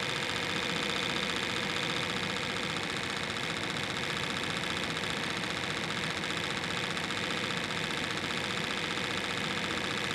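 A Bedini North Pole motor of rudimentary build, two magnets on a pivot bearing, spins fast with a steady, continuous mechanical whir and hum that stays loud and even throughout, with no voices.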